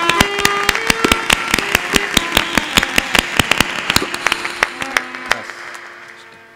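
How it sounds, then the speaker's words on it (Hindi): A crowd at a village satsang in Sitapur, Uttar Pradesh breaks into loud, rhythmic clapping. The sharp claps beat in near-unison and taper off toward the end. "जोरदार ताली बजा दो, वातावरण शुद्ध हो जाए"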